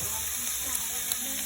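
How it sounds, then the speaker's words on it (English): Shrimp frying in olive oil in a pan, a steady close sizzle with a couple of faint clicks, brief and unbroken. "And I've got a little bit of olive oil in here. And we're gonna add our shrimp."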